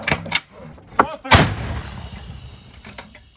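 Several booming Ukrainian artillery blasts go off in quick succession near Bakhmut, loud and near, each followed by a long rolling echo fading into the distance.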